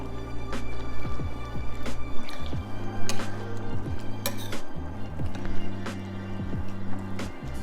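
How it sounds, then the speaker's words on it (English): A spoon stirs garlicky soup in a pot, producing continuous wet squishing and light scraping against the metal close up, under a steady low background hum. "Let's give it a stir."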